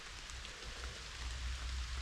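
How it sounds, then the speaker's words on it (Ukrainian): Steady rain falls in a forest during a mushroom-picking trip, a constant soft hiss of drops with a low rumbling undertone, unbroken and moderately faint throughout. "дощ не перестає, все посилюється і посилюється."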